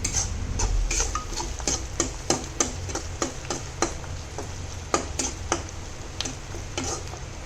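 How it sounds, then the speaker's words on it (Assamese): Kashmiri red chili powder, sugar, spices and onions frying in a generous amount of oil for goat curry, a quiet ongoing sizzle broken by regular ticking taps and scrapes of a spoon against the pan. "মই এইখিনি এতিয়া ভালদৰে ভাজি লম"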